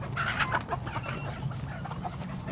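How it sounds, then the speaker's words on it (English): A flock of farm chickens clucks steadily in an outdoor yard while being thrown feed, with overlapping calls and soft scratching close by at moderate volume. "Just take it out here and throw it into all of these chickens."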